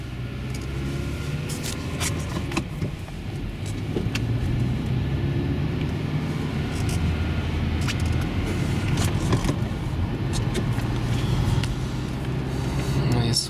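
A Kia Carens with a 1.6 engine pulls away and drives on a winter road, its steady low engine and road rumble continuous and close throughout, with faint voices at times.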